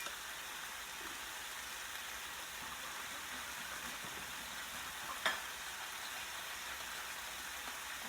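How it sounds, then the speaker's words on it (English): Spices and paste frying in olive oil in a pot for a low-carb chicken vindaloo, a steady soft sizzle and crackle throughout with one brief sharp clink or pop midway. "Pour that spice over the sizzling pot."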